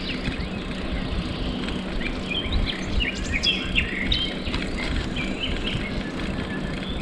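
A nightingale sings outdoors near Lake Volvi in Greece just after rain, with short bright phrases rising over a steady bed of background noise and insect buzz; there is no talking.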